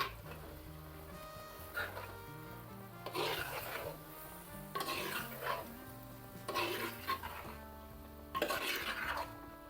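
Avial vegetables tossed with raw coconut oil in a pot for an Onam dish, heard as soft repeated scraping and mixing strokes in short bursts over a faint background, close and moderately quiet.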